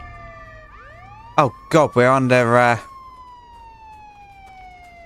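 Police car sirens in Contraband Police wail in rising and falling sweeps, fading steadily as a man briefly exclaims over them before the siren tone trails off.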